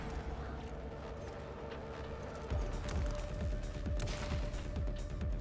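Small disc-shaped robots firing guns in the Atomic Heart video game, quick repeated mechanical shots that swell in the second half over a steady droning background.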